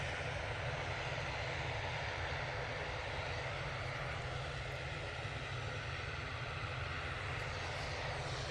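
An Iberia Express airliner taxis at Manchester Airport, its engines a steady, loud broadband roar that holds evenly throughout with no voices.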